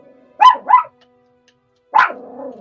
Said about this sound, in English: You hear one dog bark and you're like, okay, I need to bark.